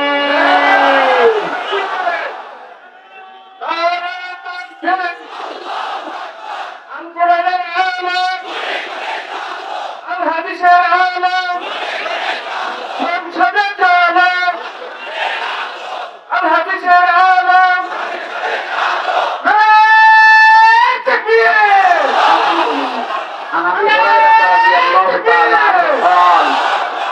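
At an outdoor Islamic sermon, a large crowd roars back a call of takbir in repeated chanted waves, loud and massed, with a lone voice leading between bursts of collective shouting.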